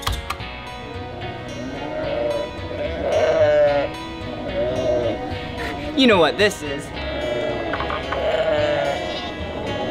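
A sheep bleats several times, wavering calls spread across the recording at a children's museum, mixed with people talking, including one drawn-out sweeping call in the middle.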